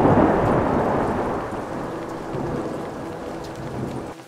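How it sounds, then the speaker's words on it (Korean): Rolling thunder rumbles loud and close over steady heavy rain in a night storm, one long low roll fading slowly across the whole stretch before cutting off. "뒤늦게 번개를 따라온 천둥이 사방에 울려 퍼졌다."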